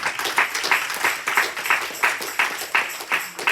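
A church congregation applauds at a Spanish-language service, with rhythmic, fairly close clapping in regular pulses lasting the whole moment.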